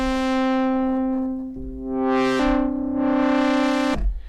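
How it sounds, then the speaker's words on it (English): A buzzy Moog Matriarch synthesizer holds sustained notes while a stereo low-pass filter sweeps, its bright upper tones opening and closing in slow waves. "now it scoops out the high tones when we have it in this stereo low pass mode"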